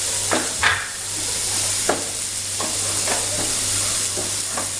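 Chopped red spinach stir-fries in a pan with turmeric powder, a constant sizzle broken by several sharp scraping stirs of a utensil against the pan, close and fairly loud.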